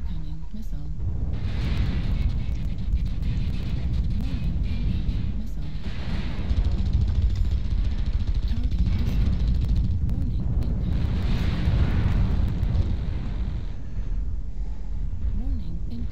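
Missile explosions rumble continuously in the mech combat game MechWarrior Online, a dense low roar of blasts and wind-like noise with radio voices and talk over it throughout.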